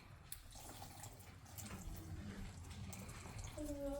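Running water from a tap soaks a towel during a modified bed bath, a steady soft splashing stream close by, faint throughout with a brief trickle near the end.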